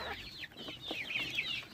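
Chickens and chicks cluck and peep inside a backyard coop, soft chirping calls and low clucks close by in a quiet setting.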